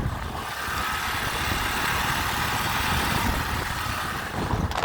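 Motorcycle engine running steadily with a rider aboard, a continuous mid-pitched drone with road rumble that stays fairly loud and even throughout.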